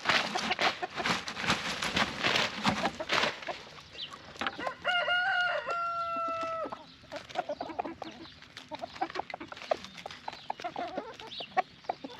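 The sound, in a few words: chickens clucking and crowing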